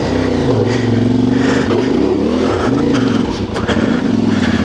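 A motorcycle engine labours up a steep hill on a UK green lane, its note rising and falling with repeated throttle surges and strain, loud and close.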